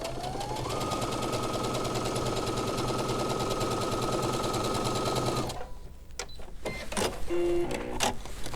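Sewing machine stitching fabric along a marked line, a steady rapid motor whir running for about five seconds, then stopping, followed by fabric handling clicks and rustles, close and moderately loud.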